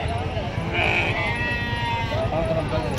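Goats bleat amid a noisy livestock market in Gudur, with people talking throughout.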